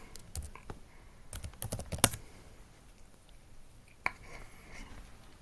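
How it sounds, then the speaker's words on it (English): Bursts of typing on a computer keyboard, quick key clicks clustered early and a few isolated taps later, fairly faint and close with no talking. "now I gotta type it again. But let's just go ahead and type it."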